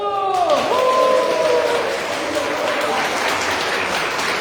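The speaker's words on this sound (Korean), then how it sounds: "박수!" A crowd breaks into steady applause after a short shout, the clapping dense and sustained like rain, continuing loudly to the end.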